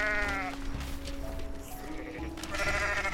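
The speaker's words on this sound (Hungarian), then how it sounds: "Benyalok itt pár birkát. Ezek kosok." Rams bleating in the Goat Simulator MMO video game, a few loud, close, wavering bleats that overlap one another, with a fresh bleat rising near the end and no voices over them.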